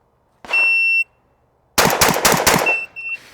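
Rapid string of shotgun shots on a competition range, a loud close burst of several sharp blasts in quick succession, bracketed by electronic timer beeps before and after.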